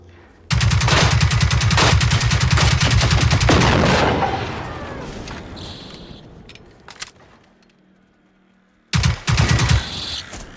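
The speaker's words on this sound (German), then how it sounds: "Mit der Waffe kannst du so geil aus der Hüften ausschießen" Hip-fired automatic weapon in the shooter Generation Zero: a loud, rapid sustained burst of shots for about three seconds, fading into echoing tail and quiet, then another short rattling burst near the end.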